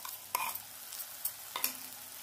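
Ground boiled spinach being sautéed with masala in oil in a pan, soft sizzling with a few sharp stirring scrapes of a spoon against the pan, close and fairly quiet with no talking.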